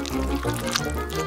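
Sprite pours into a glass smeared with strawberry syrup, a continuous close liquid fill with fizzy, bubbly texture running through the whole short stretch without talk.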